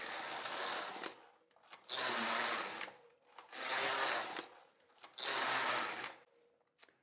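A Passap DECO / Duomatic 80 knitting machine knitting a sweater, its carriage swept back and forth in four loud, even passes of rasping whir, each about a second long and separated by short near-silent pauses, close by.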